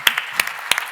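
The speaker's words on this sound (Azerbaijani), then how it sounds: "bu alqışlar sizədir" A panel audience at a sales conference gives a few quick, scattered hand claps, sparse and close, in a short burst of about three claps.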